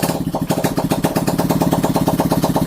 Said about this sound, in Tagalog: Medyo tunog bangka pa nga pala to dahil hindi pa natin nakakabitan ng tambutso.